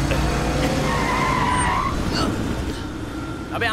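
A car in a Hindi-dubbed action film scene skids in loudly, tires squealing and engine roaring close by for a few seconds, with a brief shout-like burst mid-clip.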